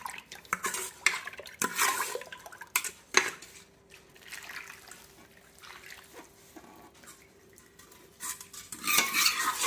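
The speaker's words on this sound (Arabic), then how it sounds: "دابا غنخلط غادي نخلط بداك الزيت اللي طيبت فيه ديك تقطه" A utensil stirs a mixture of ground almonds and sesame with oil in a bowl, giving scraping, clinking strokes at an irregular pace with quieter pauses between them.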